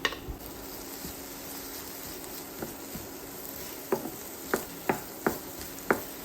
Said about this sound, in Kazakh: Оның үстіне біздің турап алған пияздарымызды салып 1-2 минуттай қуыратын боламыз.